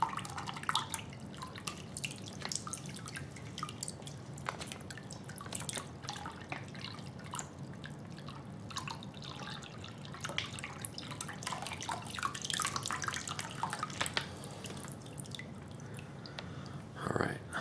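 Water drips and trickles steadily through a Sawyer Squeeze gravity filter into a collapsible pouch, a continuous faint patter of small irregular drops heard close with no talk.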